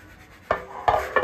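Foxtail millet egg biryani rice being stirred in a pot, with three distinct scraping clatters of a spoon against the metal rim after a quiet moment.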